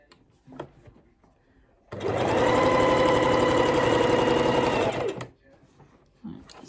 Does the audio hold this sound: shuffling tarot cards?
no